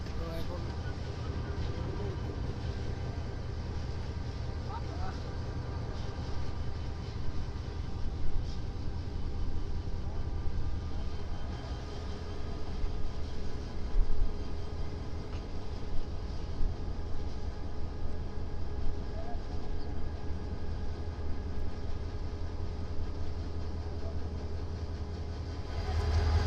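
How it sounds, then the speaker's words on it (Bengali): A train runs steadily along a railway in Bangladesh, its continuous low rumble and hum holding evenly throughout with faint rattling on top, while voices murmur in the background. "চট্টগ্রামের ট্রেন দেখি, এটা কোনটি?"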